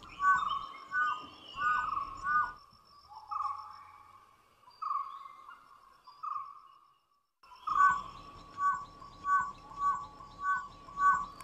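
A dhole's clear, high whistling calls repeat in a series, then pause, then resume as a rapid run of short whistles.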